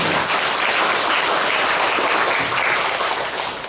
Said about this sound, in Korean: 우리 하늘 부모님께 감사의 박수를 올려주시기 바랍니다.